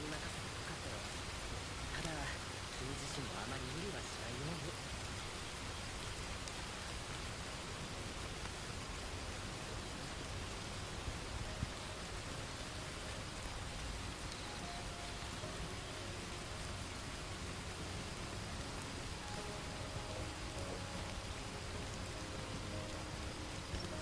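Dense, steady downpour of heavy rain in an anime episode, a constant hiss that stays faint and unbroken throughout.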